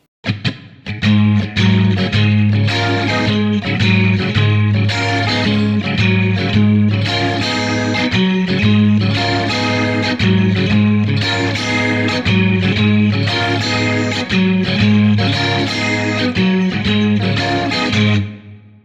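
An electric guitar plays a blues rhythm riff through a rotating speaker effect, loud, close and continuous, with repeated chordal stabs and a swirling, warbling tone.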